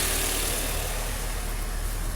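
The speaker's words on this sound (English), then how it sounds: "this is the final product with the engine running" A Nissan Altima 2.5 engine fitted with a K&N cold air intake idles at close range, giving a steady, even broadband hum with no change in pitch or level and no voices.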